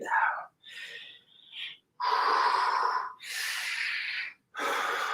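Heavy, deliberately exaggerated breaths during a breathing exercise in a full-body workout: five loud, close breathing bursts in an uneven rhythm, separated by short silences, with no talking.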